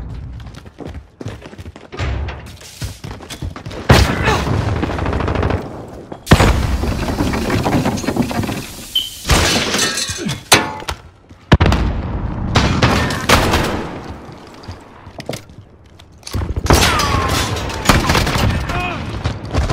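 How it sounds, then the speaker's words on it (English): Shotgun blasts in a Modern Warfare Search and Destroy match ring out as several sharp, heavy reports at irregular intervals, mixed with footsteps, game noise and a player talking over much of it. "For the new shotgun. That's the only reason I'm using it."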